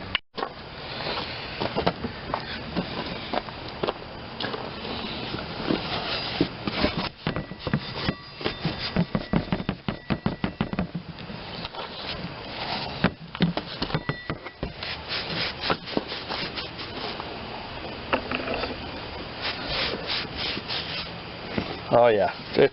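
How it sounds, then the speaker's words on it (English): A Scotch-Brite pad rubs back and forth against a rusty crankshaft from a Briggs and Stratton twin engine, producing steady rhythmic scrubbing and rasping strokes up close. "I'm going to get some Scotch-Brite, see if I can polish that up a little bit."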